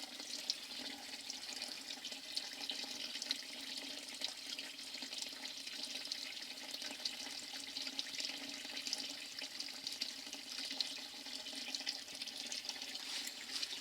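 Water running steadily from above at a monastery in Macedonia, a continuous bright splashing hiss that stays even and close throughout, with no voices.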